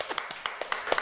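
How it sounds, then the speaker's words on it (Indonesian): A few people clap briefly for an arriving guest on an Indonesian talk show, a sparse, uneven patter of claps close by with no talk over it. "Kasih tepuk tangan ya."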